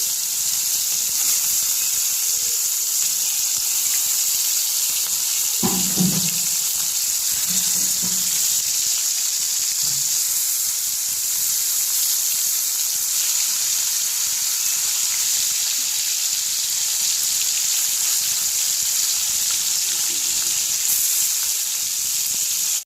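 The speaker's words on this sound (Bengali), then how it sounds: "গরম হয়ে গিয়েছে এবারে এক এক করে মাছগুলো দিয়ে দেবো" Rohu fish pieces frying in hot oil in a wok: a steady, loud hiss and crackle of frying fills the whole stretch, with a few brief clatters of handling partway through.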